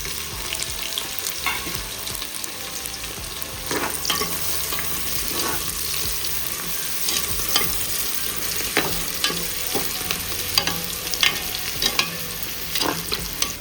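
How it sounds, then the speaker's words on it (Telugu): Chopped onions fry in hot oil for a spicy Telugu-style mutton curry, a steady close sizzle punctuated by frequent spoon scrapes and clinks of stirring against the pan, with no talking. "ఆయిల్ వేడెక్కినాక ఉల్లిగడ్డలు వేసుకోవాలి. కట్ చేసిన ఉల్లిగడ్డలు."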